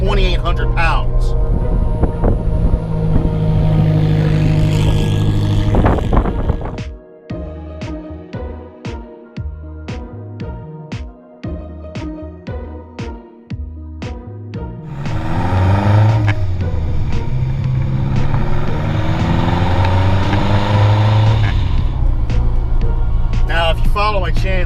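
A 1997 Lotus Esprit V8 sports car drives, with a loud engine roar and rushing wind at first, a stretch of sharp rhythmic pulses in the middle, then the engine drone swells again; someone talks over parts of it.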